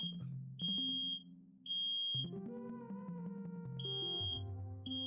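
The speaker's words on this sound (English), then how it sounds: "Is that a fire alarm?" Smoke alarm beeping in repeated high, piercing tones at a steady interval over louder music playing in the room.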